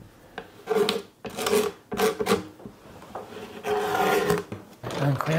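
A wooden cutting board being sanded to take off a thin inlaid strip, with repeated rough, rasping bursts of abrasive against wood in uneven strokes, close and loud with short pauses between passes.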